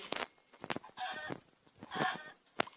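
Clucking chicken sounds from a video game, several short bursts repeating over a few seconds at a fairly faint level, with no talk over them.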